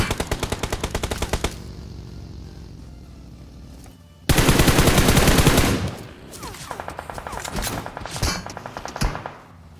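Gunfire in a battle royale video game: loud, close automatic bursts, with rapid rhythmic shots early on, a dense sustained barrage in the middle, then quicker scattered bursts at the end.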